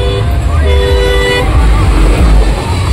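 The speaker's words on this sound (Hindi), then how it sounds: "देखिए इधर गाड़ी आ रहा है पूरा" Vehicle horn honks amid a crowded Bol Bam fair where khichdi is handed out and traffic is jammed, steady tonal toots over a dense roar of crowd chatter and engines, close and loud.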